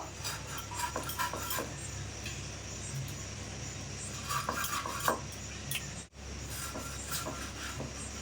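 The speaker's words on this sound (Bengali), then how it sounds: "এবার পেটির মাছটা কেটে নেব" A knife cuts belly pieces from a 3 kg silver carp, close scraping and chopping against a board or plate, with irregular knocks and a brief pause near the end, no talking.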